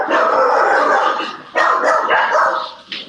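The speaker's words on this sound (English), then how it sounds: "Sounds like your dogs like it, Ryan." Dogs bark loudly and close to the microphone in three short bursts, sharp and distinct, with no speech over them.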